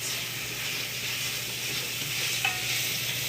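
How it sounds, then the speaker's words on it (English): Food sears in a pot for beef bourguignon while being stirred, giving a steady, even sizzling hiss. A single brief metallic clink from the utensil comes near the end, and no one speaks. "And I'm going to throw these in here to sear as well. And I'll give them a good stir."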